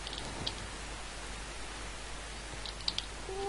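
Steady, soft hiss of rain falling in Minecraft, a continuous even wash with a few faint clicks on top and no voices.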